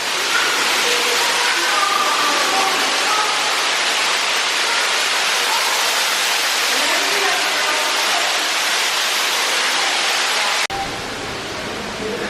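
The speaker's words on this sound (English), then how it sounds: "notice as we start up these stairs how the sound of the waterfall starts" Waterfall echoing through cave passageways at Silver Dollar City, a loud, steady broadband roar that continues for several seconds before dropping abruptly to a quieter background near the end.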